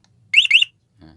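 An MP car alarm speaker lying face down gives two quick rising electronic chirps, close and muffled, followed by a faint brief click, with no talking.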